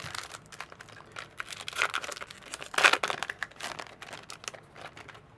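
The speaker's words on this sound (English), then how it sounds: "And last pack, are we going to get our foil Nissa in that one?" Crinkly plastic wrapper of a Magic: The Gathering M15 booster pack being torn open, close and continuous with sharp crackling peaks and rustling, no voices.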